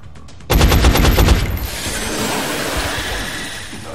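A rapid burst of automatic gunfire from the video game XCOM: Enemy Unknown rattles off loud and close, a fast string of shots lasting about a second before trailing into a fading mechanical hum.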